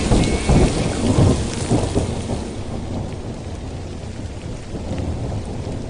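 Heavy rain pours steadily with rolling thunder rumbling through it, a dense, loud outdoor downpour with no voices heard.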